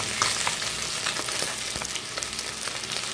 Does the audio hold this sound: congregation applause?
no